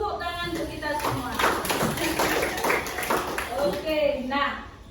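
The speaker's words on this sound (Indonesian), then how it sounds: "Tepuk tangan untuk kita semua." A classroom of students claps together in a lively burst of applause, steady hand claps mixed with chatter and voices throughout.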